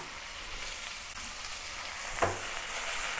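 Beef slices searing undisturbed in a hot wok for a stir-fry with bok choy, a steady close sizzle held at an even level, with one brief clink partway through.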